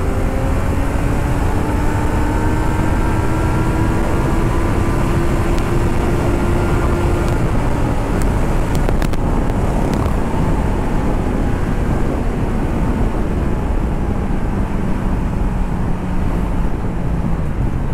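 Kawasaki Z900 superbike pulling hard in third gear on the road with power set to low, a steady loud engine drone with rising harmonic sweeps, heavy wind buffeting over the microphone, no talk.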